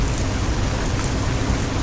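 Heavy rain pours at night in a dense, loud, unbroken hiss with no separate drops or voices.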